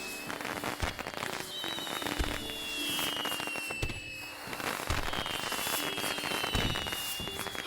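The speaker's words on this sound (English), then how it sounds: "How do they already have fireworks?" In the video game Beyond the Edge of Owlsgard, fireworks crackle and pop continuously, a dense, fizzing spray of small bursts with occasional thumps, fairly quiet and without talk.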